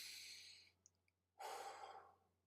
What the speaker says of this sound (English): take a deep breath. Now exhale.